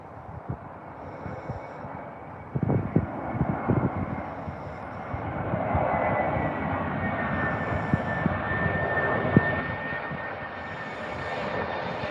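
Jet airliner arriving at Tampa airport, heard as a broad, steady engine roar that swells gradually with a faint high whine, with some scattered thumps and rattles nearby.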